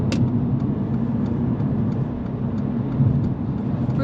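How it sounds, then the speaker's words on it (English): Steady car engine drone and road rumble while driving on a motorway at up to 70 mph, a continuous, even noise with no talking. "listen to the engine"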